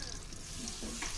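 Dry fruits roasting in a pan, sizzling softly while being stirred, with brief scraping strokes over a steady frying hiss.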